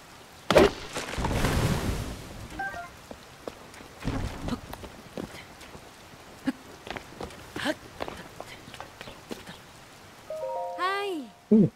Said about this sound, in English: Are you avoiding the rain too? Getting wet is the worst.